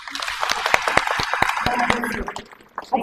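Scattered, uneven clapping from a church congregation breaks out in bursts, mixed with overlapping voices and cheering, then fades near the end.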